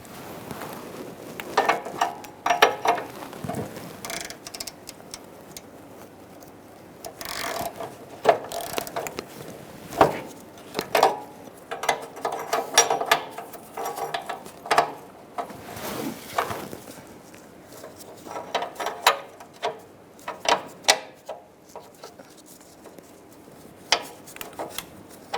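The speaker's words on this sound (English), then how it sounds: "get our 22mm socket or wrench. We're going to break the O2 sensor free." A 22mm socket wrench ratchets in repeated clicking bursts while breaking free a downstream O2 sensor on a 2000-2007 Ford Taurus, with metallic knocks and pauses between strokes, close by.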